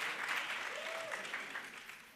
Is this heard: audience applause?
yes